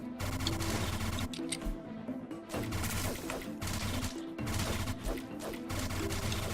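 Rapid repeater weapon shots in StarBreak, a busy stream of crackling hits and impacts over a pulsing game soundtrack, steady and fairly quiet.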